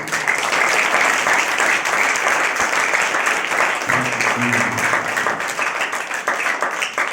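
A church congregation applauds continuously for several seconds, a dense, loud wash of clapping with a few voices faintly mixed in.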